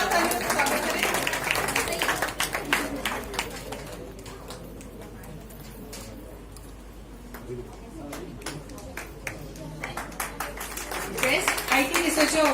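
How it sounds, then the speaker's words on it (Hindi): An audience at an awards ceremony in Jabalpur claps steadily, loud at first, thinning in the middle and swelling again at the end, with voices faintly under the applause. "अब मैं अनु भैया से रिक्वेस्ट करूंगी कि वो best IT researcher award mister शरद गुप्ता को देने के लिए जोरदार तालियों से स्वागत करें।"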